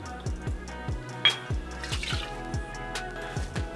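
Bourbon poured into an old fashioned cocktail, a pumpkin spice version, heard as a rhythmic series of close glugs and drips with a few sharper splashes, no voices.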